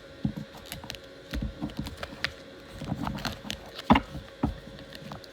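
A tarot deck is cut into three piles by hand, giving soft, close card taps and light slaps in a brief irregular cluster over faint room noise.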